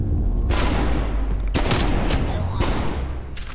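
Loud gunshots in Call of Duty Black Ops Cold War crack out in a few sharp booming bursts over dense game noise, close and heavy.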